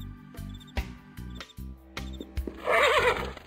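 A horse in the Darkestville Castle video game neighs, a loud, wavering whinny in the last second, preceded by game music and a few clip-clop-like hits.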